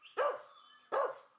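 Two loud, close barks from a domestic dog on a farm, separated by a short pause, with no other sounds around them.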